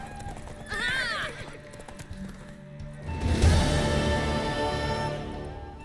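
A horse in The Witcher 3 neighs loudly, then its hooves clip-clop at a gallop, with some game ambience around.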